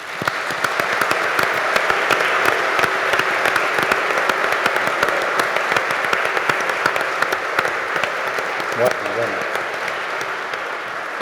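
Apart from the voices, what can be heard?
audience applause at a congress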